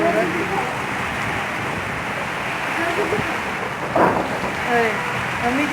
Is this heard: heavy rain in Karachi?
yes